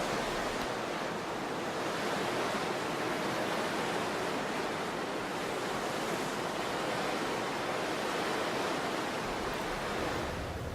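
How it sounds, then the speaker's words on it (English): Powerful waterfalls in Milford Sound, New Zealand, roar as a dense, continuous rush of water heard through mist from a cruise ship, with no voices. "looking out through the mist at these beautiful and very powerful waterfalls"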